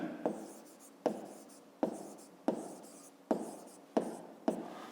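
A pen writes out a math solution on paper, producing seven sharp, evenly spaced taps, each followed by a short scratching stroke, close and quiet, without talk.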